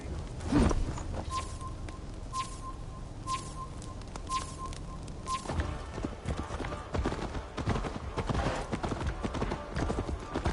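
Horse hooves clip-clop in a steady walking rhythm in the video game Assassin's Creed Valhalla, with faint birdsong and a repeating chime over a busy outdoor ambience.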